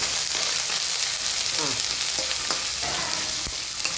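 Food fries and is stirred in a pan with a constant loud sizzle, and now and then a utensil scrapes or knocks the pan as it is stirred. No one speaks.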